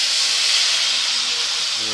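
Broth goes into a hot pan of fish and potato curry and sets off a loud, continuous sizzling hiss that holds steady and close throughout.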